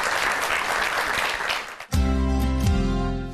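Audience applause at an event with a government minister, a broad wash of clapping that cuts off abruptly partway through and gives way to music.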